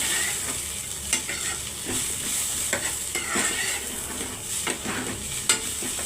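Sliced onions with a cardamom pod frying in a pan for a mushroom curry, a soft continuous sizzle broken by occasional scraping stirs, close and steady with no voices.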